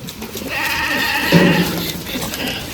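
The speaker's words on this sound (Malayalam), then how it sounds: "ഏകദേശം പത്ത് മുന്നൂറ്റമ്പതോളം ആടുകൾ പോകുന്ന ഒരു കാഴ്ചയാണ്" A large herd of about 350 goats on a farm bleats amid a steady shuffle and murmur, with one louder bleat rising briefly above the din.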